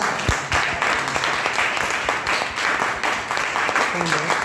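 An audience claps at a business gathering, a steady wash of applause lasting several seconds with dense, overlapping hand claps, moderately loud and fairly close, with a voice briefly heard under it.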